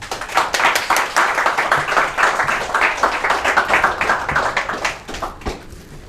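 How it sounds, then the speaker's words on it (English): Applause from an audience at a talk on nearshoring in Mexico and supply chains, fairly close, with distinct individual claps forming an uneven rhythm that swells and then thins out and fades near the end. "Please give me a round of applause for him."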